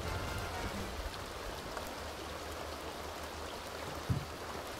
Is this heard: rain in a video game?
yes